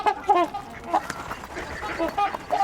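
Mallard ducks quack in short, irregular bursts among a tame, often-fed flock of waterfowl, fairly close and moderately loud, with overlapping calls.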